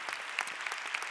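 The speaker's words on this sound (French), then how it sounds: "Et je pense qu'on peut applaudir cette signature." An audience applauds a signing at a conference on primary care research and innovation, a steady patter of many hands clapping for a brief moment without voices.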